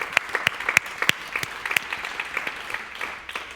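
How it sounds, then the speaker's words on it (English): Audience applause at a session's close, a modest crowd clapping with distinct individual claps audible, moderately near and tapering off over a few seconds. "I think they deserve a round of applause."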